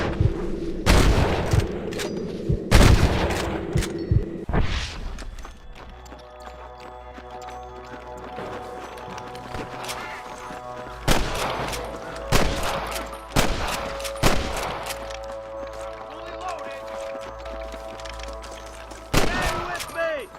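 Sniper gunshots in a cowboy video game: sharp, loud cracks in bursts near the start and again later, some single and some clustered, with quieter stretches of ambient sound and tonal game audio between them.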